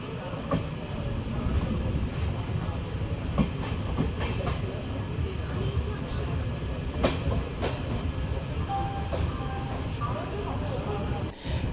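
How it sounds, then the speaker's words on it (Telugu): An Amrit Bharat train rolls into Tenali Junction with a continuous rumble and clatter, sharp wheel clicks and brief squeals over steady noise, while people talk nearby. "1:47 మన ట్రైన్ తెనాలి జంక్షన్ చేరుకుంది."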